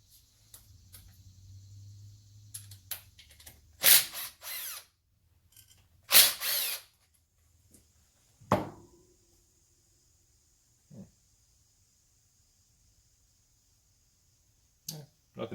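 Hand tools working on a Copeland semi-hermetic compressor as its valves are removed: a few sharp metallic clacks and short power-tool bursts stand out between quiet gaps, with a low hum early on.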